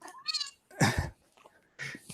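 A domestic cat meows several times, with drawn-out tonal calls and short gaps between them, standing out clearly in a quiet room.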